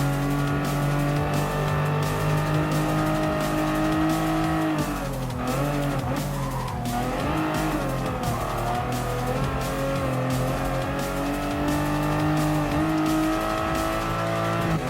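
Sports cars racing in Gran Turismo Sport, including a Porsche and a Ferrari, with loud sustained engine drone, shifting revs and brief tire squeal through the middle, steady and close throughout.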